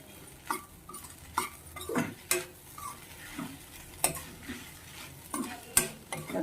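Pieces of idli are tossed with coriander powder and salt in a pan, with intermittent spatula scrapes and metallic clinks over a faint, quiet sizzle.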